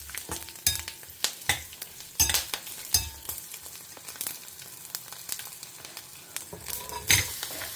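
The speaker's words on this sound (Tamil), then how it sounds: "தேங்காய் எண்ணெயில் இந்த கொப்பரை வதக்கிறச்ச நல்ல வாசனை வரும்" Dried coconut sautés in coconut oil with a steady soft sizzle, broken by sharp scraping and clacking stirs against the pan, close and fairly loud, with no talk.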